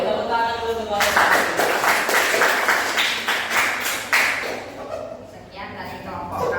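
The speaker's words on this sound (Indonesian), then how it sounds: "Oke, tepuk tangan dulu untuk Bapak." A class of teachers claps for a presenter in a maths session, a short burst of sharp, close clapping that starts abruptly and dies away after a few seconds, with talk on either side.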